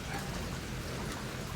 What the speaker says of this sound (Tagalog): Tapos ito pa, ulan pa, nasabay pa ng ulan